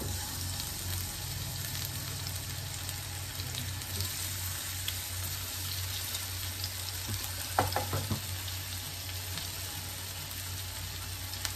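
Potato pieces fry in olive oil in a pan, giving a steady, even sizzle with a few brief clinks and stirring scrapes partway through, moderately close and with no talk.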